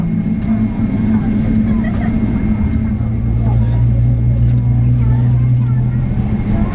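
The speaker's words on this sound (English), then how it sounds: "those engines warming up," Inside the cabin of a Thai Airways Boeing 777 during pushback, the jet engines start up. A steady, loud low drone holds throughout, and its hum climbs in pitch midway, with a voice heard faintly at times.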